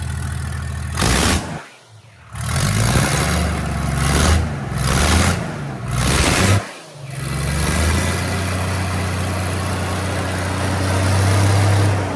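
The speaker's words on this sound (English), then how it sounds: "Dad's gonna give it a couple of engine revs" A heavy 5.9 Cummins diesel engine with an oil leak idles steadily, rising in a few revs with brief pauses between them, loud and close, then settles into a long, even rumble.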